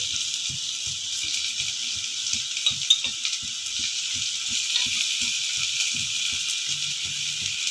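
Lentils and spices roasting in a pan for sambar give off a continuous bright sizzle, with rapid scraping strokes of stirring repeating throughout, close and fairly loud, no talking.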